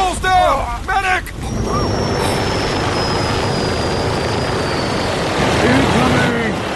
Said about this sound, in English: That chopper's dropping off more soldiers.